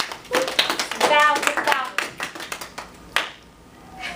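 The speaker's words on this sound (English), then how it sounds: "Let's all clap for a second." Classroom clapping from a group of students, a short burst of hand claps mixed with a teacher's and children's voices speaking over it.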